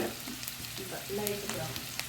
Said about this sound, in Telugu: లైట్గా బ్రౌన్ కలర్ వచ్చేదాకా వేయించాలి.